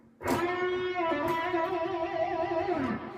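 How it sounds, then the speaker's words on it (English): A sustained electric guitar note with wide, wavering vibrato, loud and close, starting with a sharp pick attack and ringing for about three seconds. "especially wild vibrato"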